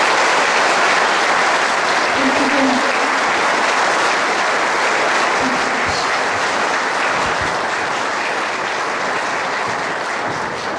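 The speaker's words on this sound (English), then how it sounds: "I think we'll give her another round of applause" Sustained audience applause fills an awards evening hall after a sung performance, a dense, steady wash of many hands clapping at close range with no voices over it.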